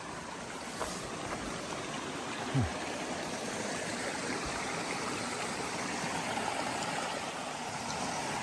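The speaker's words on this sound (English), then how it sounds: "I've been hearing this creek running all this time." Continuous broadband rushing of flowing creek water, steady and fairly close, with no voices.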